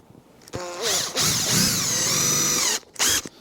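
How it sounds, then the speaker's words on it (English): A power drill drives screws into a lump of wood fixed to the face of a steel beam during a house build, with several loud whirring bursts of varied length separated by short pauses. "I screw a lump of wood onto the face of it"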